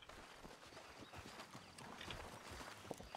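A horse walks in Red Dead Redemption 2 (RedM), its hooves clip-clopping faintly and irregularly against a low, noisy background with no talk.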